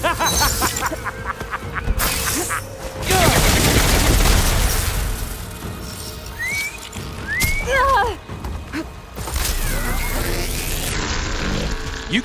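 Bursts of rapid gunfire from enemies in Horizon Forbidden West, loud and close, mixed with whistling and squealing machine-like noises and continuous combat clatter.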